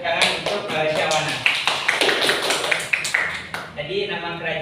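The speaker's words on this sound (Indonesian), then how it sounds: "beri tepuk tangan untuk Syawana" A classroom applauds a student after her presentation, with a burst of tapping, uneven clapping from a small group lasting several seconds and overlapped by voices.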